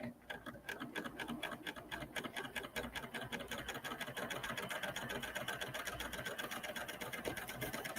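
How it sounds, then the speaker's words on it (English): A Baby Lock Applaud sewing machine stitches fabric with a steady, rapid mechanical ticking and whirring that runs continuously at close range, with no talking. "So let's stitch this down and see what that looks like."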